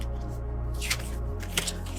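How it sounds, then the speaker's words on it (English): Tarot deck being shuffled, a steady papery riffling of cards close by, quiet and continuous over a low background hum. "while I shuffle the deck"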